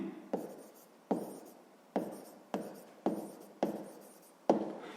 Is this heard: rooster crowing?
no